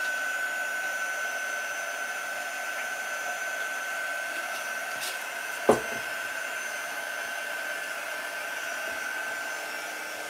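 A quick dry heat tool blows steadily at a Chalk Couture transfer, a soft constant airy whir with a faint tonal hum throughout and one brief sharp knock midway.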